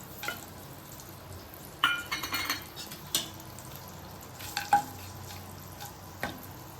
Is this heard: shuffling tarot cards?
no